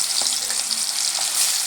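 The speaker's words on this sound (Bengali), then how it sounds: "বাকি মাছগুলো আবারও আমি ভেজে নেব" Hilsa fish pieces frying in hot oil give a steady, close sizzle with scattered pops and crackles, with no voices over it.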